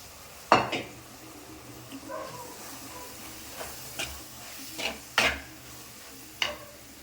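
Masala and tomato mixture stirred in a pan, a spoon striking and scraping the metal in several sharp clinks spread over a low background hiss, no talking.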